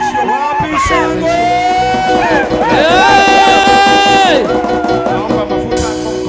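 A church congregation cheers loudly at a pastor's elevation service, a dense wall of shouting and ululating voices that swells and holds for several seconds.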